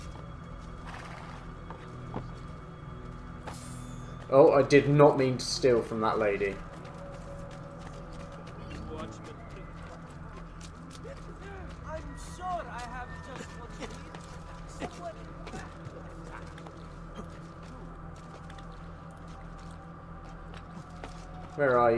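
Horse hooves clop in Assassin's Creed II, with a louder neigh and a flurry of sounds in a brief burst early on, then quieter movement and game ambience while someone talks over it.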